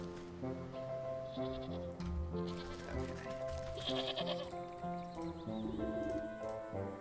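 Sheep bleating in the video game Wytchwood, wavering animal calls layered over steady tonal game music, with several bleats rising clearly above the background.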